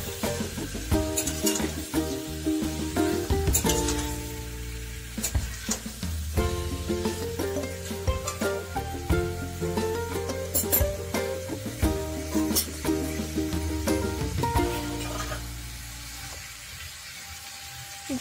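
Tomatoes and green chillies being stirred in a hot frying pan, with repeated clinks and scrapes of a utensil over a soft sizzle, steady for the whole stretch.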